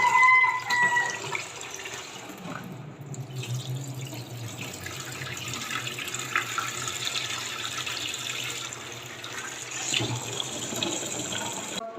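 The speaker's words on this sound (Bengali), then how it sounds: "ডালটা এখন ভালো করে ধুয়ে নিব" Tap water runs steadily into a vessel as lentils are washed under it, a close continuous splashing flow with a few brief clinks and no talk.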